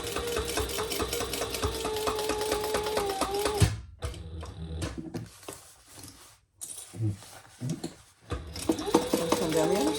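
A sewing machine top stitches a crossbody bag near a D-ring, running steadily for several seconds before stopping, then a few short bursts of stitching and handling noise follow.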